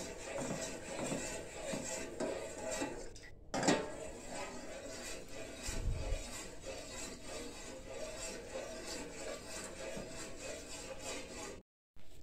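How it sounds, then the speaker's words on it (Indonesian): A utensil scrapes and clinks around a pot as a milk pudding mixture is stirred over medium heat until it thickens, in a quiet, repeated stirring rhythm, with a couple of brief louder knocks. "Diaduk terus"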